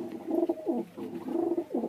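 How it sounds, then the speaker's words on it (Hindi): Breeder pigeons in a loft coo in soft, rolling, repeated phrases, close and distinct with no other sounds. "सारे के सारे ब्रीडर कबूतर अंदर ही हैं।"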